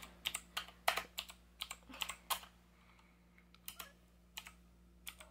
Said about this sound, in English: Now I'm gonna use the keyboard.